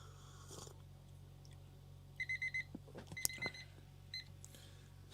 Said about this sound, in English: Everything's beeping.